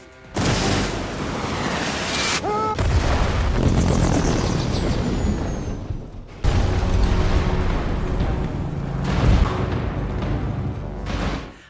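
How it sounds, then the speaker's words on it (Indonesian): A loud roaring blast with a rushing whoosh as an RPG is fired at a helicopter, followed by sustained rumbling and another heavy boom as it crashes amid continuous noise. "Dengan kerjasama epik, Bronco dan Sydney berhasil menjatuhkan helikopter tersebut menggunakan tembakan RPG dengan presisi"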